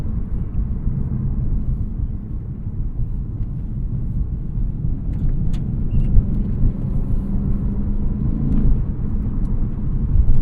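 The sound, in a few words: 2020 Lexus RC F Track Edition driving through a curve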